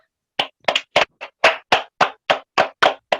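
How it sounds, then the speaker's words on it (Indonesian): Classroom clapping for a primary school student, about a dozen sharp separate claps from a few hands in an uneven, steady rhythm, close and fairly loud, with no talking. "kasih tepuk tangan Yuda"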